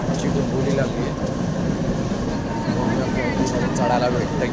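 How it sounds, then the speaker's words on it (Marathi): The 8 o'clock Dombivli local commuter train pulls in at platform 1, a steady close rumble of rail cars with people talking over it. "प्लॅटफॉर्म क्रमांक 1 वर आलेली लोकल 8 वाजताची डोंबिवली लोकल है"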